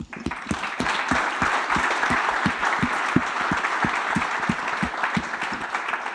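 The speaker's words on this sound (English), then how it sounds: "So first, big applause to you all." A conference audience at a big data forum applauds, dense steady clapping from many hands sustained evenly throughout with no voices over it.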